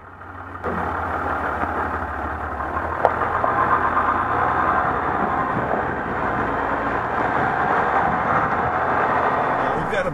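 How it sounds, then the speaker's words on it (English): Diesel engine of a 2014 Ram 1500 EcoDiesel pickup running, a quiet, steady mid-pitched drone heard from the cabin that starts abruptly and holds even, with a faint click partway through. "It sounds like a diesel car engine, basically."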